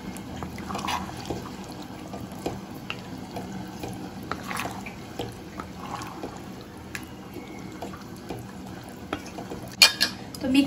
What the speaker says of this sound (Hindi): तो फैट डालने के बाद मिक्स कर दूंगी।